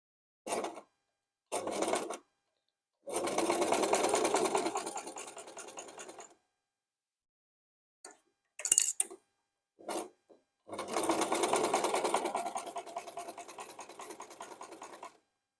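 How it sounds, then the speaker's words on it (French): Sewing machine stitching a seam on an Easter basket, running in several separate bursts of stitching, some short and some several seconds long, with brief pauses between them and no talk. "je vais faire une couture de ce côté et de l'autre côté"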